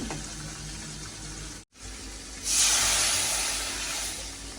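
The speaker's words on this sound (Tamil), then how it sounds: "பாலை விடுவோம் இதுக்குள்ளே." Milk pours steadily into a curry pot with a soft, hissing rush that rises partway through and continues, close by and fairly quiet.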